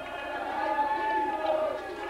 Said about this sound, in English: the crowd getting on Mamaluke's case with the "Where's My Pizza" chant